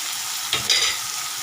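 Ivy gourd curry sautéing in a pan, a steady soft sizzle with a couple of brief scraping stirs partway through, close and fairly quiet, with no voices.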